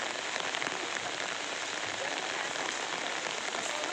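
Steady rain falls on a surface nearby, heard during rubber tapping as a dense, even hiss of drops with no speech over it.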